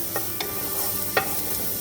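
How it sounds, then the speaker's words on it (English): Garlic sizzles softly in olive oil, a quiet steady crackle broken by a few light taps and scrapes of stirring, close by with no voices. "So let's go in with a little bit of olive oil, maybe a couple of tablespoons. In with our garlic."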